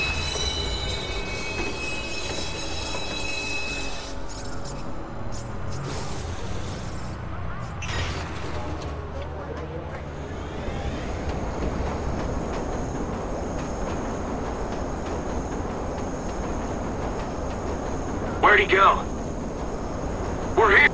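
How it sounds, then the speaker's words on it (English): A train rolls through in the game Watch Dogs: Bad Blood, a steady loud rail rumble with squealing wheels lasting throughout, while voices talk over it. "Southbound train, arriving shortly."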